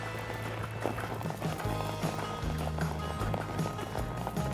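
A horse moves at an extended lope, its hooves beating a steady rolling rhythm at close range over a constant background with faint voices.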